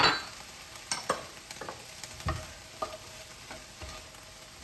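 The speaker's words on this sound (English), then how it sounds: "we're just gonna saute these a little bit just so they become just a tad soft" Vegetables for minestrone soup sautéing in a pot, with a soft steady sizzle broken by several distinct scraping stirs and clinks of a utensil at irregular intervals, close by and with no talking.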